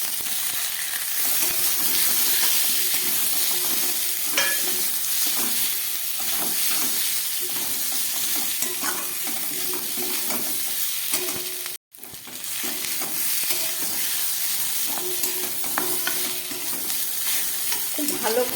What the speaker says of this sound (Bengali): এবার এই ভেজে রাখা সবজিটা আমি এর মধ্যে দিয়ে দিচ্ছি।